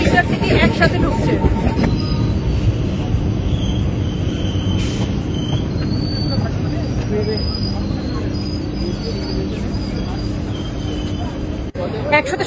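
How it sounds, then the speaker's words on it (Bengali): The 12383 Sealdah–Asansol Intercity Express rolls into Barrackpore station alongside a local train, a close, continuous rumble and clatter of wheels with brief high squeals, slowly easing, heard from aboard. "আর ব্যারাকপুরে কিন্তু পাশের লোকাল ট্রেন আর এই আসানসোল ইন্টারসিটি একসাথে ঢুকছে"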